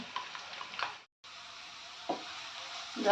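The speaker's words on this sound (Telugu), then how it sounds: "ఆనియన్స్ అన్నీ ఇలా రెడ్డిష్గా వేగిపోయినాయి కదా" Onions frying to a reddish brown in a pan for gongura chicken, a faint steady sizzle with a few soft stirring scrapes and a brief dropout partway through.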